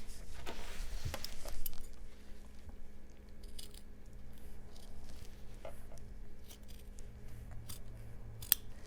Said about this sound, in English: we're going to take our scissors and we're just going to cut our stars out